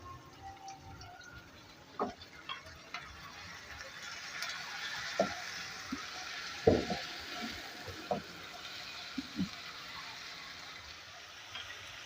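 Water splashed into onion, garlic and ginger frying in a pan for a dhaba-style chana dal fry sets off a steady, moderate sizzling hiss. Scattered small clicks and knocks sound throughout, with no talk.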